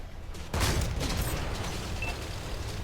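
A Soviet SU-152 Taran tank destroyer fires its gun in World of Tanks on console, a single heavy boom half a second in that rolls into a long, loud rumbling decay.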